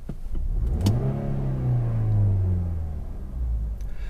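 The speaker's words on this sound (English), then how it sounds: "I'm just going to free rev it off of idle to kind of show you what I mean by the fact it's not super revvy." 2019 Toyota Corolla Hatchback engine free revving from idle: a single rev climbs smoothly to a sustained mid-range hum, then slowly falls back toward a low idle rumble, heard up close with no talking.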